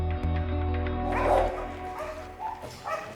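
Dogs at a military kennel of a French air force training centre bark and yelp, several loud overlapping barks and whimpers nearby, with a low mechanical hum underneath.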